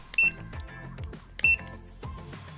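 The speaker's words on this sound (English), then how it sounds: "These beeps were really loud" Two loud button beeps from an Orbit Magna video magnifier about a second apart, each followed by a softer tonal chirp, with faint mechanical clicks between.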